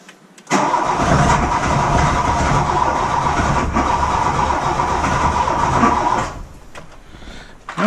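A 1975 VW Rabbit fitted with a 1.8t 20v engine cranks on its starter for several seconds, a loud close churning drone that starts abruptly and then drops away without settling into a clean idle.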